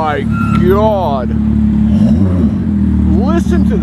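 A Porsche Carrera GT's V10 with an Akrapovic exhaust revs loudly and steadily nearby, with rising and falling pitch sweeps, while excited voices talk over it.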